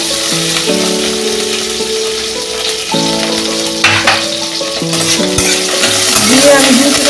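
Loud, steady sizzling of chopped garlic frying in a pan for rajma curry, with a few scrapes of stirring and a sustained tonal hum underneath.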